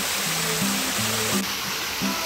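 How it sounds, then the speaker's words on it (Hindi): A waterfall in a Meghalaya jungle gives off a steady, broadband rush of falling water that stays constant throughout, with faint tonal murmurs underneath. "आप देख सकते हैं वो झरना है मेरा पीछे"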